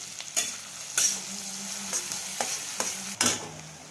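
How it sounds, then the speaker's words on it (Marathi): Chopped onions sauté in hot oil for pav bhaji, with a spoon scraping and stirring the pan in several distinct strokes over a steady low sizzle. Close and fairly quiet, with no voices. "दोन मध्यम आकाराचे कांदे तरी फोडणीतच घालायचे आणि कांदा चांगला परतून घ्यायचा"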